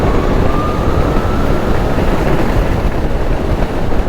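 LiveWire Del Mar electric motorcycle cruising at highway speed around 60 mph, a loud, steady rush of wind buffeting the microphone with a faint motor whine underneath, continuous and close.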